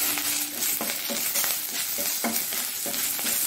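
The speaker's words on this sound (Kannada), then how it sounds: "ಸ್ವಲ್ಪ ಸಣ್ಣ ಉರಿಯಲ್ಲಿ ಇದನ್ನು ಸ್ವಲ್ಪ ಬಾಡಿಸಿಕೊಳ್ಬೇಕಂದ್ರೆ ಇದರ ಹಸಿ ವಾಸನೆ ಹೋಗುವ ತನಕ ನಾವು ಬಾಡಿಸಿಕೊಳ್ಬೇಕು." Punarpuli leaves sauté gently over a low flame for chutney, a close, steady soft sizzle broken by repeated scraping stirs of a spoon in the pan, with no voices.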